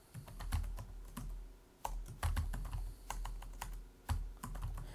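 Rapid typing on a computer keyboard while entering spreadsheet labels in Excel, with close, crisp key clicks in irregular bursts and brief pauses between words.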